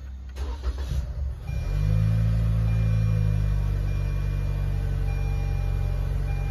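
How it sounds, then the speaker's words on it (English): A Toyota Camry engine cranks briefly, then catches and settles into a loud, steady idle close by, with no talk. "Now let's put the battery on and see if the car turns on."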